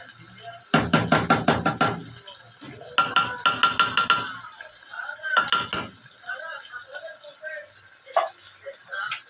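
Corn gets stirred in a cooking pan, bursts of rhythmic scraping and clattering of a utensil against metal come in quick runs, close and fairly loud, with a few knocks between strokes.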